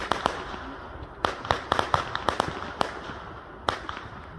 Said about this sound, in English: that was our fireworks